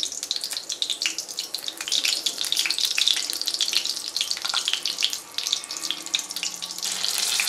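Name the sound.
green chillies and leaves frying in hot oil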